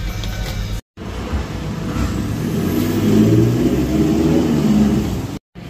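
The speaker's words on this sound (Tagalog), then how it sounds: "Paps, start na tayo, tingnan natin kung may fault sa ating engine" Mitsubishi Montero diesel engine idling steadily after start-up following EGR valve, intake manifold, EGR cooler and throttle body work, a low continuous rumble that swells slightly midway, with short breaks of silence near the start and end.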